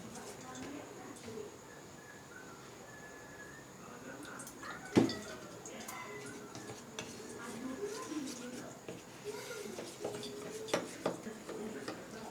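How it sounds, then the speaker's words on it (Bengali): Spoon scraping and clinking in a bowl while batter is mixed with water for flattened-rice and potato cutlets, faint and intermittent with one sharper knock, under quiet background noise. "এবার এটাকে একটু জল দিয়ে অল্প অল্প জল দিয়ে একটা ব্যাটার বানিয়ে নেব"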